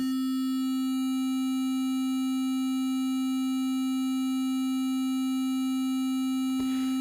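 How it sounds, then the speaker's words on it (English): A sine tone processed by a bit crusher through sample-and-hold holds a steady pitch, with aliasing adding a stack of thin harmonics above it. The tone runs unbroken and loud, with a short click near the end. "This is what bit crushers do. They introduce this aliasing on purpose."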